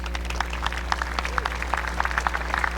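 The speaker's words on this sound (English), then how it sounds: "I love these applause" Applause from the audience at Quincy High School's 2019 graduation ceremony: a steady, dense patter of many hands clapping that fills the hall evenly throughout, with a low constant hum running beneath it.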